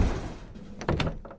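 A shop door in a video game opens with a low sliding rumble followed by a solid thunk and a brief rattle, close and fairly loud.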